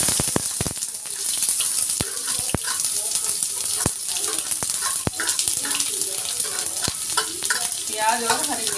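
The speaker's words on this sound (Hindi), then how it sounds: "अब इसमें डाल देंगे हम प्याज," Chopped onions and green chillies hit hot oil in a pan over a low gas flame and sizzle loudly and steadily, with stirring clicks scattered throughout.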